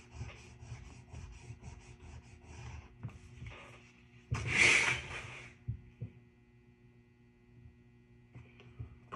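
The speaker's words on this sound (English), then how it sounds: "use my eraser" An eraser rubs on paper along a ruler edge while a light-to-dark value scale drawing is cleaned up. It makes close, repeated short scrubbing strokes, then a louder brief scuff midway, with no talking.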